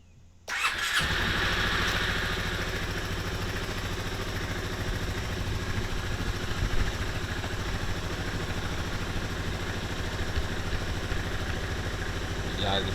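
A motorcycle engine catches after a brief start and settles into a steady, close idle with a mechanical clatter that holds evenly to the end, alone without talk.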